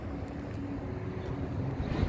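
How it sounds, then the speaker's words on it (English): Steady highway traffic roars beside a shop, a continuous low rumble of passing vehicles that swells slightly toward the end, with no voices. "Sorry for the highway noise."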